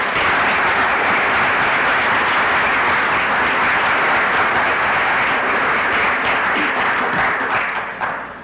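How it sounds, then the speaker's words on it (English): Sustained audience applause following a 1976 lecture by Edsger Dijkstra, a dense, steady wash of many hands clapping at full loudness for about eight seconds, tapering slightly at the very end. "suggest that we clap him in the normal fashion"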